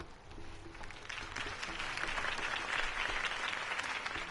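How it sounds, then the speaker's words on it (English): A crowd applauds after Harvey Dent's campaign speech, steady sustained clapping from many hands filling a large room, moderately distant and unbroken for several seconds. "could have heard that applause"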